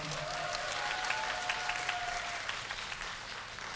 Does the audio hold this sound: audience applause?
yes